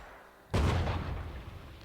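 In a video game, a sudden loud explosion bursts in after a quiet half second, followed by a rumbling, crackling decay of gunfire-like booms.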